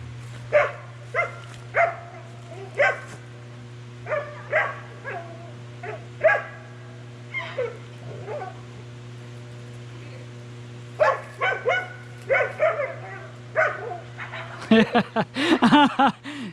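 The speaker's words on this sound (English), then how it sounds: "The son's out there playing with the dogs." Dogs barking in short bursts and yips while playing outdoors, a steady low engine hum underneath, with a louder flurry of barks at the end.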